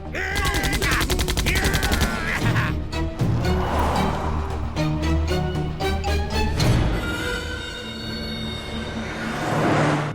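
Gunfire in an Indian film scene comes as loud, rapid bursts like machine-gun fire, with clusters of sharp cracks repeating over a busy background of music and effects.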